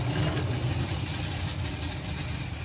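A nitro drag racing car's engine runs rough and uneven, failing to draw through its nitro, with a loud, close, sputtering low rumble at a festival drag strip.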